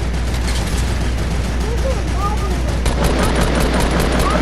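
Turret gunfire in a video game, a constant dense rattle of rapid shots under a low rumble, loud and steady, with voices talking over it.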